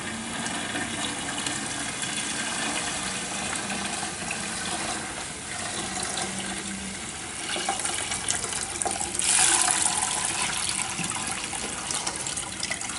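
Homemade rhubarb wine is poured off its sediment in a steady, continuous trickle and splash of liquid, swelling briefly louder toward the end.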